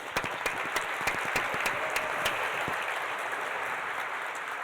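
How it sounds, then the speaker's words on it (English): Applause from a luncheon audience in a room, a steady patter of many hands clapping with a few sharper individual claps, fading slightly toward the end. "Let's give them a round of applause."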